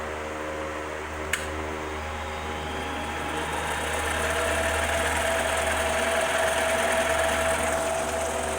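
The electric motor of a Logan 12 inch lathe runs with a steady mechanical hum and whine, starting with a brief click and then building slightly in level as it keeps turning, nearby and without talk.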